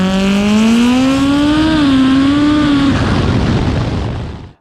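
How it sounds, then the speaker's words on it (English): A 1992 Mitsubishi Eclipse GSX engine revs loud and close, its pitch climbing and wavering for about three seconds before cutting to a rough, noisy settle and fade. "this is my 1992 Mitsubishi Eclipse GSX"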